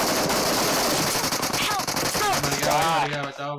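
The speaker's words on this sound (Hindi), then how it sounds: "क्या भाई दीवार में गोलियां मारते लगे" Rapid automatic gunfire in the BGMI battle royale mobile game, a dense continuous burst of shots filling the clip, with players talking over it.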